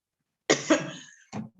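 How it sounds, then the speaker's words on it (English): Two sharp, close coughs in quick succession, then a shorter third cough, each bursting out of silence. "I don't know why I'm coughing"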